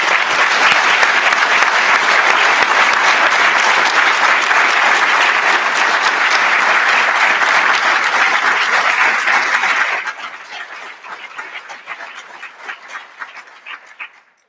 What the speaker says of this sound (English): I'd ask you to recognize them with a round of applause.